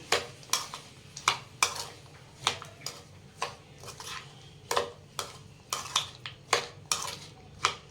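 Raw mango and onion salad being stirred with hot oil in a bowl, a spoon clinking and scraping against the dish in a steady, irregular rhythm of sharp close strikes over low kitchen hum, with no one talking.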